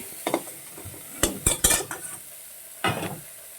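Cauliflower being fried in a pan for a Bengali lunch dish, heard as a few close scrapes and clinks of a spatula against the pan over a soft, steady sizzle, with no voices.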